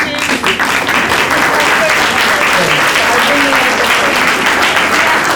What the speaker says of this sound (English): Clap for wife and kids.